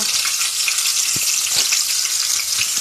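Meat and onions frying in a pan, a steady close hiss of sizzling oil with a few soft stirring knocks, running continuously without any talk.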